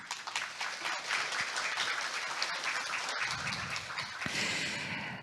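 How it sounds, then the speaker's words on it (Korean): Audience applause at a Korean government innovation forum welcomes an introduced attendee, a dense, even patter of many hands that continues steadily and tapers near the end. "한 분 한 분 소개가 될 때마다 큰 박수로 환영해 주시길 바라겠습니다"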